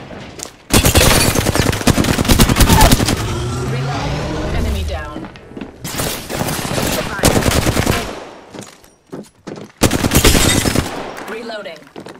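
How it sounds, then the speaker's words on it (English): Bursts of rapid automatic gunfire from the video game Apex Legends rattle in several loud volleys separated by short pauses, with some voice audible amid the shooting. "I'm taking the shot."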